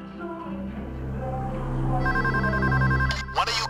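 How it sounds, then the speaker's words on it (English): A telephone rings in the Payday 2 GO Bank stealth heist, its repeating electronic ringtone starting partway through and sounding loud and close over a steady low background hum and faint game ambience. "One of you guys answer the phone and pass me through."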